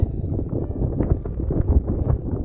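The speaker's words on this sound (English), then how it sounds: "I know you can hear me through the wind" Strong wind gusting across the summit of Wheeler Peak, New Mexico, a loud, continuous low roar buffeting the microphone with no voices.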